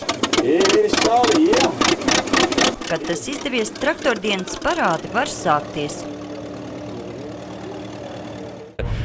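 Hundred-year-old tractor engine at a tractor day in Tērvete, chugging rapidly and unevenly as it starts, then settling into a steadier idle, heard close and loud beneath someone talking.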